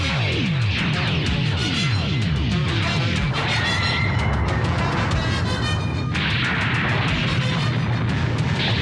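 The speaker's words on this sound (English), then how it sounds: "Another bombardment approaching." Bombardment in the Robotech animated series: a rapid series of booming explosions and crashing blasts, dense and loud, with whistling descending tones and sharp bursts layered over continuous rumbling, no voices.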